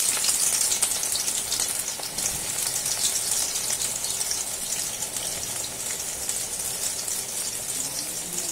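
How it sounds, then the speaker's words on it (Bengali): Onions frying in white oil in a wok for mutton posto give a steady, dense sizzle with a loud, even hiss that holds from start to finish, with no voices. "কড়াতে আমি সাদা তেল বসিয়ে দিয়েছি, এবারে বাকি পেঁয়াজ গুলো আমি কড়াতে দিয়ে দিচ্ছি"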